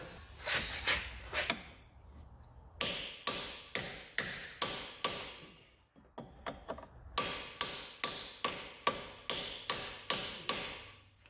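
A hammer beats on a flat block held against a badly rusted lower control arm of a Dodge Nitro, in sharp metallic blows at a steady rhythm, with a short pause in the middle of the series.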